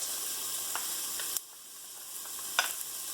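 Two cloves of rough-chopped garlic hit a hot pan for tomato soup, giving a faint, steady sizzle with a few soft stirring clicks and no talking.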